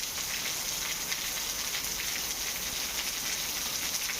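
Heavy rain pours steadily in a village, a dense continuous hiss of drops drumming on surfaces, loud and unbroken throughout with no voices.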